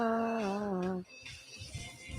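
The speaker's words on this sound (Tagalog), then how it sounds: "May pusa?" A cat gives one long, drawn-out meow that bends downward in pitch, loud and close, before it breaks off and people chat casually in the background.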